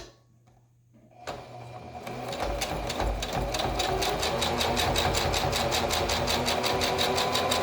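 A sewing machine runs a straight stitch across a homemade fabric face mask to hold the pleats in place, starting after a quiet moment and settling into a steady, close, rapid rattle of needle strokes that continues alone.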